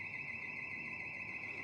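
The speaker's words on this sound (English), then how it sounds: "Alarm's going off outside somewhere" Alarm going off somewhere outside, not on the street, a steady high-pitched continuous tone held throughout, faint and distant against a quiet indoor background.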